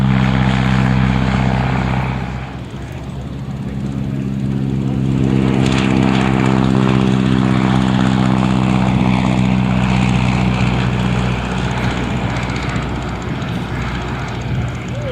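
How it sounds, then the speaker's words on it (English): A Boeing Stearman biplane with a radial engine and propeller at an air show, a loud, continuous, throbbing drone that dips briefly and then swells back to a strong, steady roar close by. "Different sound of the Lycoming and Continental radial engines."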